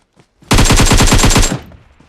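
An M4 rifle fires a sustained automatic burst of about ten rapid, evenly spaced shots, loud and close, in a PUBG Mobile match, cutting off sharply and then fading out.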